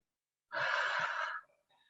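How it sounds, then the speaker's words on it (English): A single long breathy exhalation through an open mouth, as if blowing out a candle, in a yoga class, lasting close to a second and fairly close, followed by a faint softer breath. "Let's take 3 open mouth exhalations, blowing the candle again"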